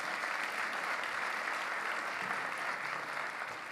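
Steady, dense applause from a large audience greeting the mayor of Cleveland at a small business forum, loud and sustained throughout with no voices breaking through.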